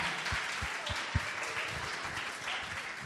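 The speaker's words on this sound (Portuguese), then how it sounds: "Vamos aplaudir a célula de Hermesinde também." A church congregation applauds, a dense and steady patter of many hands clapping at moderate loudness throughout, with a few sharper individual claps standing out.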